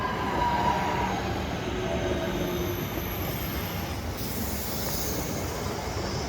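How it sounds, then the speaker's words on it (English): A Class 323 electric train pulls into Wilmslow station, a steady rolling rumble of wheels on rail with a faint squeal, continuous and moderately close throughout. "Coming up now, we have another Class 323."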